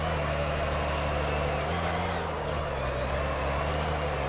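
A turbo truck drifts in the CarX Drift Racing video game, with a loud, continuous droning engine and a brief hissing air burst, no talk.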